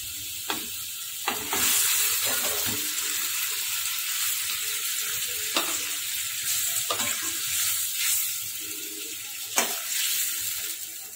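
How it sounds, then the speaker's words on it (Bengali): Fried hilsa fish and eggplant slide into a boiling Bengali fish curry, giving a steady sizzle and bubbling with a few brief stirring knocks against the pot. "এবার আমি এর মধ্যে দিয়ে দেব ভেজে রাখা মাছ আর বেগুনটা।"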